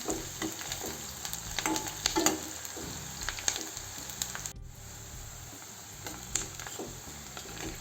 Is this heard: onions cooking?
yes